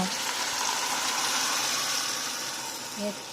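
Tadka sautéing in a pan while being stirred, a steady broadband frying sizzle that holds evenly throughout, with a faint utensil clink near the end.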